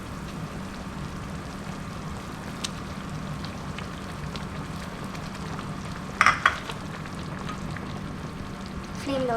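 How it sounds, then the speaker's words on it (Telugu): Pineapple semolina kesari stirred in a pan over a low flame gives a steady soft bubbling and scraping throughout, with a couple of brief utensil clinks near the end. "ఉండలు కట్టకుండా మంచిగా ఇలా కదిలిస్తూ ఉడికించుకుందాం"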